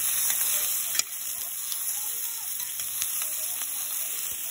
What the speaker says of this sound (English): I am stir frying mushrooms, carrots, capsicum, greens with olive oil, pinch of salt and pepper.